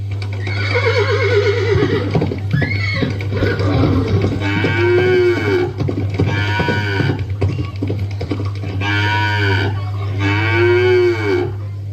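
A cow moos loudly several times in long, drawn-out calls with pauses between, over a constant low electrical hum, during a school skit.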